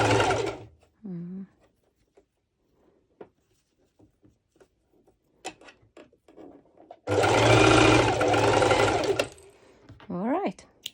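Sewing machine running a long straight stitch on fabric for a bikini top, one loud burst of about two seconds after quiet handling noises, with short bits of voice before and after.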